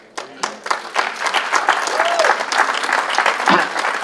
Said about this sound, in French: Moi, j'aimerais qu'on applaudisse le Seigneur parce que Dieu est grand.